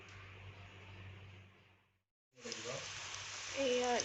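Cut nimki dough pieces drop into hot refined oil in a wok, raising a bright, crackling sizzle that fades briefly, then returns louder and busier as the frying takes hold, close up with no talking.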